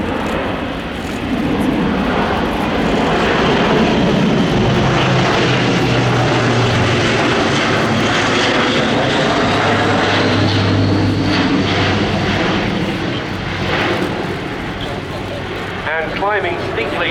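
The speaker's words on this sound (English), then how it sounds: "climbing steeply at the end thanks to the power of the 4 Europrop International TP400 turboprops" An Airbus A400M military transport with four Europrop International TP400 turboprops makes a slow low pass at the RIAT 2016 airshow, landing gear down, then climbs steeply. The loud, sustained propeller drone lasts throughout while a commentator talks over it.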